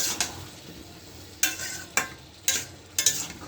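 Prawns and jackfruit sauté in hot oil with whole spices and cumin paste, a steady sizzle broken by four sharp scraping stirs of a spoon against the pan, close and fairly loud, with no one speaking.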